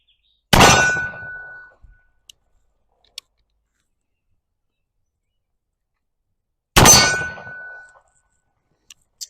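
Two loud, sharp metallic clangs ring out several seconds apart as shots from a stainless steel Ruger Old Army revolver strike a small steel target outdoors, each ring decaying over about a second, with faint ticks between.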